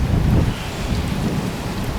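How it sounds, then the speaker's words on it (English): Rain begins falling during a storm in Dover, a steady, dense rushing wash with a heavy low rumble of wind that holds evenly throughout, with no voices. "Just starting to rain now."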